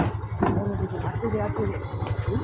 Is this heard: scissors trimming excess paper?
no